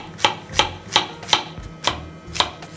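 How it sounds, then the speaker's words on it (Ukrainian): A knife chops courgette, button mushrooms and bell pepper on a board in six crisp, evenly spaced strokes, close and distinct with no voices. "Я взяв кабачок, гриби шампіньйони і болгарський перець. Все це нарізаємо."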